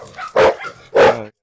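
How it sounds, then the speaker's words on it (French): A Cane Corso barks twice from inside a cage at its puppies, two loud, close, separate woofs with a softer whimpering sound just before them. "Il aboie sur les petits depuis la cage."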